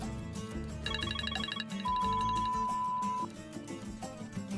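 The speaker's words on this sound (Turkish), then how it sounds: "Oğlum Selçuk arıyor." A mobile phone ringtone signals an incoming call, a bright melodic electronic tune with repeating notes and a held tone, playing alone at moderate volume for a few seconds.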